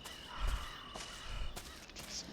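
A crow caws a few times outdoors at night near a house, the calls faint and distant against a low rumbling background.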